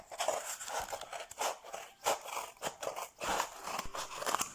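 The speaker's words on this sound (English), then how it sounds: "Let's cut the kitchen roll tube." Scissors snip through a cardboard kitchen roll tube, a run of close, dry crunching cuts with short pauses between strokes, with no talking over them.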